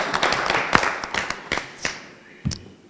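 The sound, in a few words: audience clapping at a business breakfast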